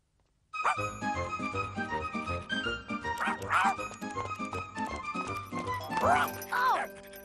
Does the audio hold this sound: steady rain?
no